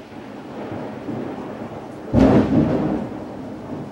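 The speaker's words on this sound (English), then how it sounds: "And a hell of a thunderstorm rolling through right now." A sharp, loud thunderclap from a passing thunderstorm bursts out of steady background rain noise, then rumbles and fades over a couple of seconds, with no talking.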